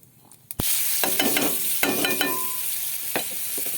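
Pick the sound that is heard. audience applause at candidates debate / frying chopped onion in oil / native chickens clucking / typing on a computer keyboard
frying chopped onion in oil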